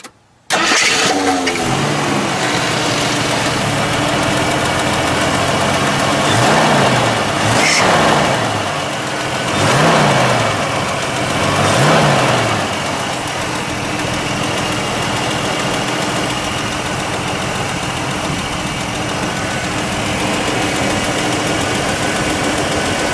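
A 1973 AMC Gremlin X Levi Edition cranks over and catches, then settles into a steady, loud idle close by, with a few brief rev swells partway through before the engine evens out.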